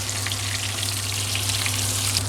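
Chicken fries in a pan with a dense, even sizzle, close and loud throughout, and a constant low hum underneath.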